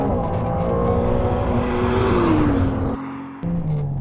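A Ferrari 296 GTB accelerates hard, its engine note climbing smoothly and loudly before a quick gear change cuts it off and it picks up again.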